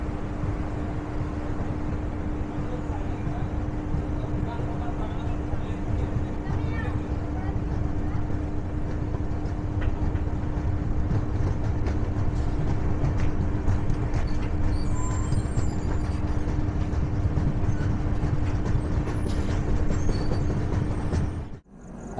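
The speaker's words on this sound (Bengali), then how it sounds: "পারাসনাথে জাস্ট 2 মিনিটের হল্ট দিয়ে আমাদের ট্রেন এখন কিন্তু বেরিয়ে যাচ্ছে পারাসনাথ থেকে" Steady rumble and rattle inside the 13151 Jammu Tawi Express as it pulls out of Parasnath station after a two-minute halt, continuous and droning with a constant hum, ending abruptly.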